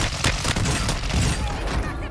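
Rapid gunfire crackles through a multiplayer shooter match, a dense, loud barrage of overlapping shots with a faint voice underneath.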